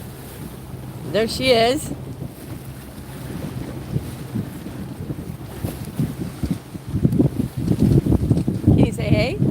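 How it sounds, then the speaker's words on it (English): A boat motor drones low and steady under blustery wind noise and lapping water, while people talk over it and a high whistle-like sound cuts in twice. "No sales today. It's just a motor."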